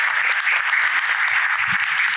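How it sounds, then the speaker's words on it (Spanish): Audience applause at a state dialogue forum on public-salary reform, a steady dense wash of clapping filling the whole stretch with no voices over it. "yo quisiera un aplauso para los funcionarios que nos acompañan."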